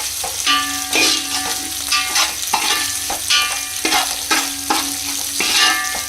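Marinated chicken with turmeric and chili powder stirred in a hot pan for Arabian chicken mandi biryani, a continuous sizzle with rhythmic scraping of the spoon, close and loud, no speech.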